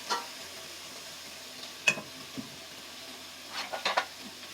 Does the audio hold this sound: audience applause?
no